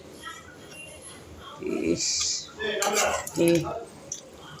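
A spoon scrapes and clinks against a pot while chicken gravy is stirred, in a few short bursts of metallic clatter over a quiet kitchen background.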